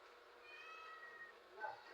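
A cat meows faintly in a quiet setting, with a drawn-out, wavering call followed by a short, brighter rising meow near the end.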